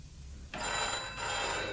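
In a BBC Radio 4 Inspector Purbright murder mystery, a telephone bell suddenly starts ringing after a brief hush, its bright, continuous trill loud and close and carrying on without any voices.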